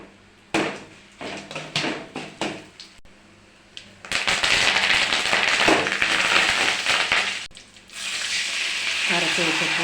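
Chana dal tempering in hot sesame oil while preparing pulisaatham: a few sharp clatters at first, then a loud, dense sizzle bursts up and carries on steadily, briefly dipping before resuming close by.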